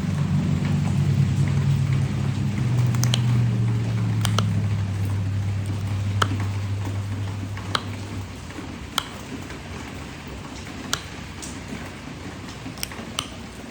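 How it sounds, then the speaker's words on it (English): Steady rain falls outdoors with a constant hiss and scattered sharp drips. A low rumble of thunder rolls through the first half and then fades. "you're listening because of the rain noises in the background"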